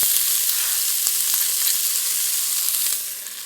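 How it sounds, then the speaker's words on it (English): Celery and onion sauté in hot bacon fat in a very hot pot, giving a steady, loud, close sizzle that holds evenly before easing slightly at the end. "we're just going to saute that a little bit to soften them up"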